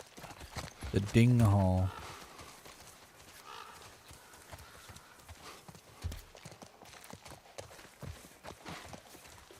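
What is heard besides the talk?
horse hooves clip-clopping in The Last of Us Part 1 video game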